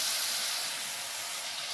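A water-mixed paste of turmeric, chili and coriander powder hits a hot kadai with a loud, steady steaming hiss and sizzle, close by and unbroken, with no talk.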